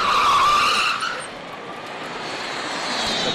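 A Formula Student electric race car skids during a demonstration, a loud tyre screech that fades into a sustained broadband rush as the car passes, with no speech.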